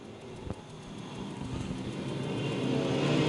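USRA A and B modified and stock cars racing at Lakeside during the Nationals, heard as a broad engine roar that swells steadily as the field draws nearer, with one brief knock early on and no talking.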